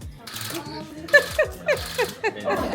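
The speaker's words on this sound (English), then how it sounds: "We then went straight into practice using the special tufting gun." A handheld tufting gun for rug making fires a series of about six sharp mechanical clacks in a steady rhythm, close and fairly loud, with softer whirring and low room noise between them.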